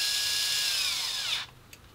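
A power drill taps a screw hole during a crawler overhaul, whining steadily and high-pitched for over a second, then winding down abruptly into quiet with a faint click.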